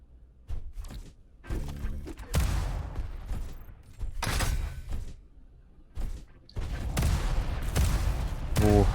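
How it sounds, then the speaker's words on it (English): Rockets fire and explode in a Quake duel, with sharp whooshing launches and heavy thuds in irregular bursts, several loud blasts separated by brief quieter gaps. "Rocket shooting by."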